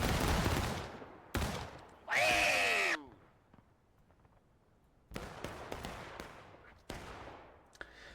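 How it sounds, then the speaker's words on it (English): Troops in a Civil War video game fire ragged musket volleys, several loud crackling bursts spread across the scene, with a whistling streak in one burst and quieter battlefield rumble between. "Take aim, Tennessee. Tennessee. Fire!"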